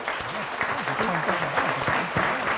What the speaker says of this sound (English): I just ask for a round of applause for our panelists here